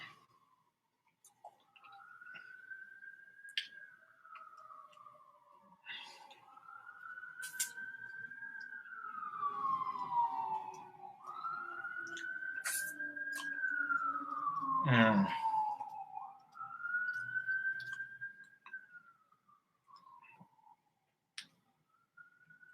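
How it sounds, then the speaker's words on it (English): A distant emergency siren wails in a slow rising and falling pattern, quiet but clear. It drifts on and off over about twenty seconds, with a faint voice and scattered clicks nearby. "I hear sirens."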